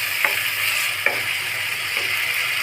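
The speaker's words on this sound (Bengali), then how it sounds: "আবারও সব কিছু ভালোভাবে কষিয়ে দিব।" Steady bright sizzle of spice paste with Kashmiri chilli powder and a splash of water being sautéed in oil for an egg and masoor dal dish, close up, with a few sharp scrapes of stirring over the hiss.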